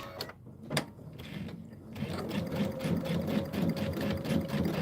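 A sewing machine stitches fabric on a June Tailor Casablanca placemat project, its steady mechanical whir with rhythmic needle clicks starting after a short pause and running continuously at close range.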